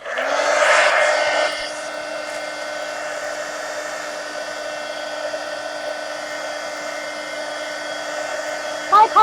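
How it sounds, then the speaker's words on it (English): Heat gun blowing hot air at close range, a steady whooshing hum with a faint tonal whine that holds evenly, a brief louder burst at the start and a couple of clicks at the end. "Now I have some space to get to the heat gun."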